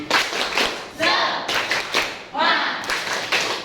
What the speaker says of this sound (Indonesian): Ice breakingnya kita hari ini tepuk semangat aja.